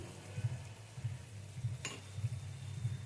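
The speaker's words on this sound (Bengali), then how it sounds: "মটরশুঁটিগুলো দিয়ে নেড়ে চেড়ে নিলাম" Bottle gourd and peas stirred in a pan, with a low, steady sizzle and soft scraping strokes repeating at a regular rhythm, plus one brief sharp clink near the middle; no voices.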